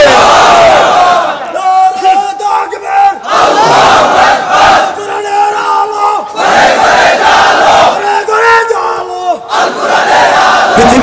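A large crowd at an open-air Islamic religious gathering roars out takbir responses in loud, repeated shouted bursts, rising and falling in rhythm over about eleven seconds.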